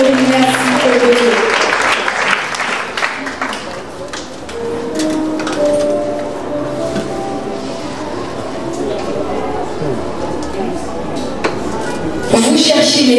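An audience applauds loudly and steadily at a church school awards ceremony honouring a top baccalaureate student, the dense clapping lasting throughout with voices mixed in.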